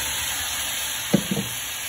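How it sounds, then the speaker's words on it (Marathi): Masala paste fries in oil for a prawn, brinjal and potato curry, giving a soft, continuous sizzle with a couple of quick stirring knocks near the end. "आणि छान फ्राय करून घ्या वाटणाला."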